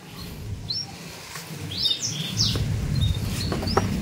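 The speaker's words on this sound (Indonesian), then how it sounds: "Ini kenari lokalnya narung terus ini" A local canary lets out a few short, thin chirps and rising whistles, scattered and fairly faint over a low background rumble.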